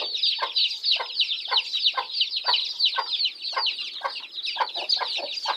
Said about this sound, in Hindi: ये देखें, 2 डक्स के बच्चे भी हैं।